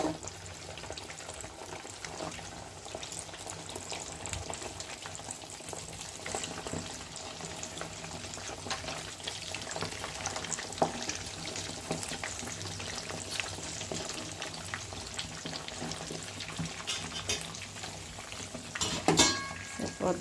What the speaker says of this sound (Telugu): oil chicken వేయంగానే పొంగొచ్చిద్ది